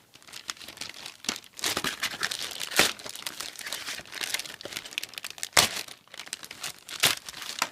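Packaging of a solar-powered 6-in-1 robot kit being torn open and crumpled by hand, continuous loud close crinkling with sharper ripping bursts throughout.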